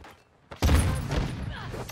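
A frag grenade blast in Call of Duty, a sudden booming burst followed by a rumbling tail, heard once in the middle of online gameplay.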